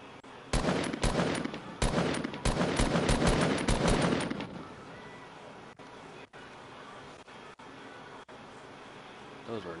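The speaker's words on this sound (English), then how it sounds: "Those were not good shots." Rapid gunfire rattles in bursts in a video game for the first few seconds, then gives way to quiet background with a few scattered single shots.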